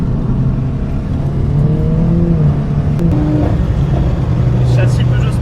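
A Peugeot 208 GTi with a full exhaust system revs while driving on a bumpy road, its engine note rising and falling in steady pulls, loud and close from inside the car.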